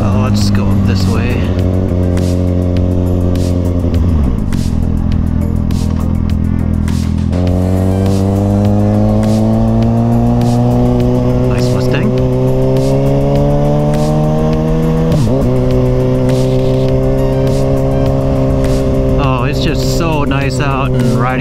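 A Kawasaki ZX6R motorcycle engine drones loud and close while being ridden through Canton, South Dakota, its pitch rising through the gears with shifts and drops, all under steady wind rush.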